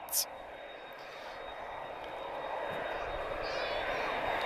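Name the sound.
aircraft with GE CF6 jet engines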